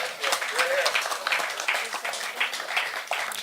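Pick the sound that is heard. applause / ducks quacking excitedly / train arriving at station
applause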